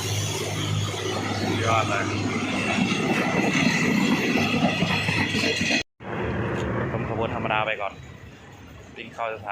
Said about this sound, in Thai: เราชมรถไฟรางธรรมดาไปก่อนนะครับ